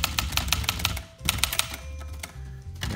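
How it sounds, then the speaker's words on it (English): Typing on a 1972 Olivetti Lettera 31 portable typewriter with chiclet keys: a rapid run of crisp, snappy keystrokes, close and loud, with a short pause and then more strikes. "really nice typing feel, nice and snappy"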